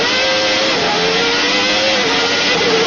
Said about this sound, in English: The wheel spin there, you heard the engine scream.